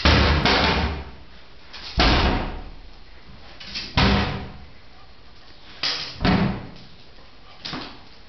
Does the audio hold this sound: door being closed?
yes